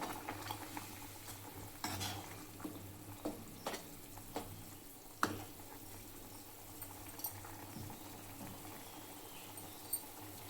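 Curry with fenugreek powder and asafoetida is stirred in a pan, a spoon tapping and scraping in irregular strokes over a low, steady simmer.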